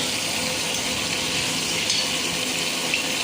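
Shrimp frying lightly in a pan for a Bengali shrimp malaikari, giving a steady, even hiss of sizzling oil that holds unbroken from start to finish with no voices.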